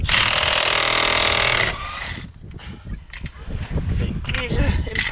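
A powerful power tool rattles loudly for close to two seconds, working loose the 35mm hub nut on a Citroen C4 Grand Picasso, then stops and leaves clanking and shuffling in a garage.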